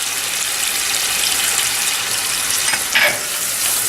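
Shrimp fry in a pan with thyme, basil, oregano and parsley, giving a steady loud sizzle, with a brief scrape of stirring near the end.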